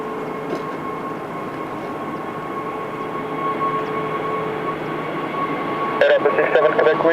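A plane taking off at Lisbon Airport: a steady engine roar and whine rising gradually, heard from a distance, with a sharper burst of noise near the end.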